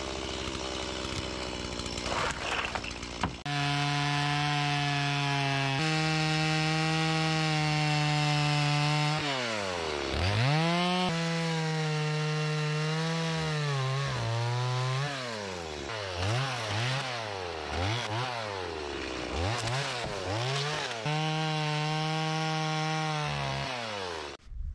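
A chainsaw cuts through a wooden log outdoors, running loud and continuous for over twenty seconds, its engine pitch sagging and recovering repeatedly as the chain bites into the wood.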